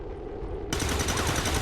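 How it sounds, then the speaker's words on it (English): A single Overwatch gunshot in the XCOM 2 video game, fired at an Advent Trooper, erupts suddenly after a quiet moment and sustains a loud, broadband burst of gunfire with no talking. "we're relying on an Overwatch shot to kill the Advent Trooper"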